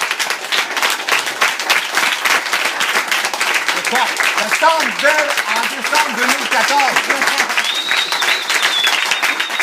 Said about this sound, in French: j'aimerais vraiment qu'on se lève et qu'on applaudisse pour Patrick Ramirez